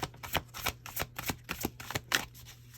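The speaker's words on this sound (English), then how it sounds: "This is why I usually don't shuffle on camera" Tarot cards being shuffled in quick repeated riffles and taps, close and fairly soft, a steady rhythm of short bursts with no voices.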